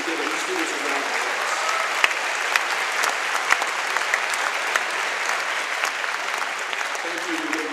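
Sustained applause from a school assembly crowd for honored students, a dense, even clatter of many hands with scattered sharper claps, filling the whole stretch.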